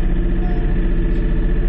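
Kubota or Kioti compact tractor engine idling while the hydraulic loader lifts, a loud steady low rumble with an even pulsing throb and no voices.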